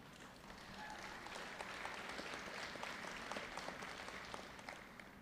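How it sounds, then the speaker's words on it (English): Audience applause at a 2019 university commencement ceremony, steady dense clapping from a large crowd sustained throughout, fairly distant and even in level. "Are you clapping for the nursing students"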